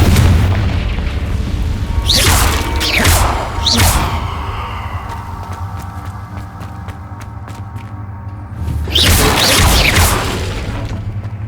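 Confringo fire spell explosions in the video game Hogwarts Legacy, two booming blasts early and another near the end, with crackling debris and game ambience between, no speech.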